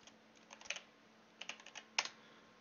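Quick bursts of keyboard typing entering a short word into a Twitch chat, a few soft clustered key clicks then a sharper final keystroke, close and quiet.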